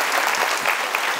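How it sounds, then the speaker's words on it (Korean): A seminar audience at the 2014 Design Yukgam event claps for speaker Kim Han-gyu in a brief, thick burst of applause, loud and continuous for just over a second. "지금까지 열강을 해주신 김한규님께 다시 한번 박수 부탁드립니다"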